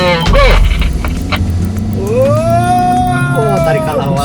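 A Toyota Veloz in S transmission mode launches hard from a standstill, its engine note climbing steadily in pitch, loud and close, while people talk and exclaim over it.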